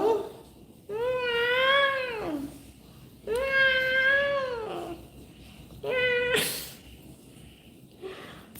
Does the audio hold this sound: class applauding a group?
no